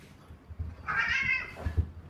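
A domestic cat lets out one drawn-out, wavering meow at close range, with soft thumps and shuffling around it indoors.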